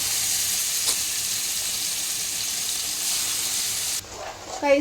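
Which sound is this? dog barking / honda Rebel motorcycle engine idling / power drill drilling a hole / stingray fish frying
stingray fish frying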